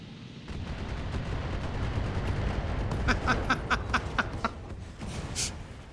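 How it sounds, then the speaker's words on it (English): A Battletech missile barrage unleashes a dense, rumbling roar of launches that builds into a rapid rattle of sharp impacts and blasts, loud and sustained, with quieter crackling bursts near the end. "That's a lot of missiles."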